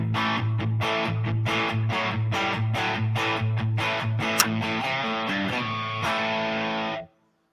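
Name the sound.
Les Paul Junior electric guitar with reverb, rev tilt sound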